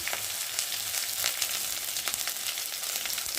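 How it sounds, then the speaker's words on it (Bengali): Spice paste of ground green chilli, cumin, turmeric, chilli powder and salt sizzles steadily in a pan while being stirred, a constant close frying hiss with soft scraping accents throughout. "এই মশলাটা একটু ভালো করে নেড়ে নেব"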